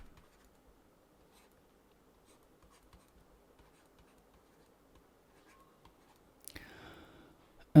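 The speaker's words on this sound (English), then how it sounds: "let me write it down" Handwriting during a mechanics lecture produces faint scratching and tapping strokes over a quiet room, with a louder scrape near the end.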